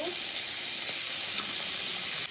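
Yard-long beans and potatoes fry in hot oil in a kadai, a steady dense sizzle that stays loud and even throughout with faint scraping touches.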